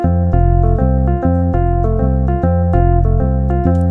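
Piano playing chord one with a rhythmic left-hand universal bass line: loud, close, repeating low bass notes under sustained chords in a steady pulse, with no talking.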